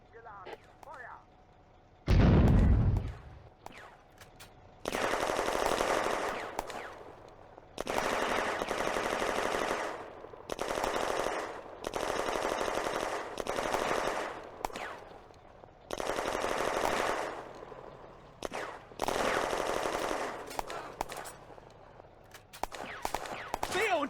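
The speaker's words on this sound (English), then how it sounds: "Soviets in the woods south of the objective are under machine gun fire." Sustained bursts of machine gun fire in a World War II Eastern Front combat game, long rattling volleys repeating in clusters with short gaps, one heavier blast early on, loud and close.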